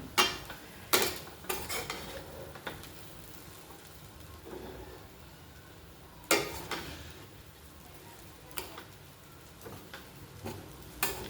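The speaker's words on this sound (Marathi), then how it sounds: "एक सारखा सगळ्या मसाल्यामध्ये मी हा तांदूळ परतून घेतलेला आहे" Rice being stirred into masala with pavta beans for a traditional Satara-style Maharashtrian pavta bhaat, heard as scattered spoon scrapes and clinks against the pan over a soft, steady background, with a few sharper knocks.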